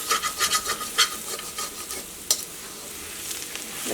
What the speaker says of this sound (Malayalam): ഇപ്പം നമ്മൾ അടിയിൽ പിടിച്ചതൊക്കെ ഇങ്ങനെ പിടിച്ചെടുക്കണില്ലേ